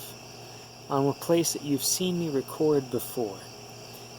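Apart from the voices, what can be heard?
crickets chirping at night in a backyard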